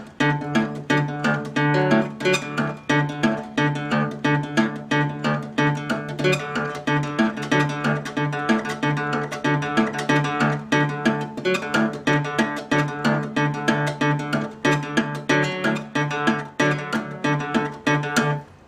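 A fingerpicked guitar plays a delta blues pattern at a brisk tempo, with bright plucked notes over a repeating bass line, steady and close with no voice.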